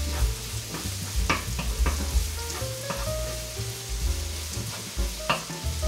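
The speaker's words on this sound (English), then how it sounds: "I'm gonna make sure it sizzles" A lot of garlic sizzles in a frying pan for carbonara, a loud, steady frying hiss broken by clicks and scrapes of stirring, with low clunks underneath.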